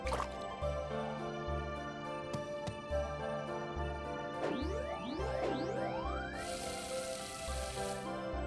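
Game sound effects from Harvest Moon Animal Parade while crops are watered: soft drips and splashy water cues over looping background music, with rising chirps and a closing hiss-like burst.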